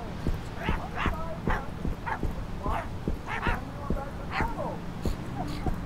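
Dogs in the horror video game My Friendly Neighborhood bark, yip and whimper in quick repeated bursts, close and fairly loud over a low background hum.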